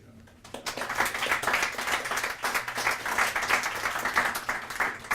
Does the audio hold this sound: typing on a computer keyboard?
no